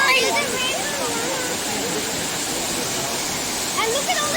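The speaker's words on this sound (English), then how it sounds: "there's another waterfall down there" Rushing water at Stevenson Waterfall fills the scene with a steady, dense roar, close and continuous, while faint voices and chatter sit underneath.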